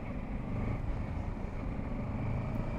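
Steady low engine drone of a Kawasaki Versys 650 motorcycle ridden at 30 with wind rush, constant and close, no voices.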